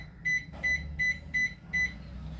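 Five short electronic beeps in a quick, even series from an IFB microwave oven's control panel being set to convection at 170 degrees, over a low background hum.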